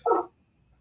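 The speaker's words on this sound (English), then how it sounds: "I'm sorry about my dogs." A dog gives one short, sharp bark close by, followed by near silence for the rest of the moment.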